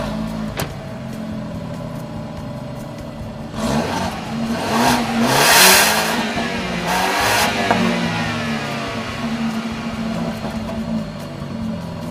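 BMW 328i xDrive GT's 2-liter turbocharged engine, rated at 240 horsepower, revs in a few rising and falling surges over a steady idle, heard close with no one talking.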